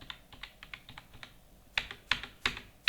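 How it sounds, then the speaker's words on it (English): Keystrokes on a computer keyboard while entering a cheque number in accounting software, a run of light quick taps followed by a few louder, sharper clicks, close and alone with no speech. "Type the check number."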